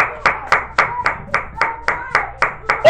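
Rhythmic clapping in a church congregation, about a dozen sharp, evenly spaced claps at a steady beat, close and fairly loud, with no talk over them.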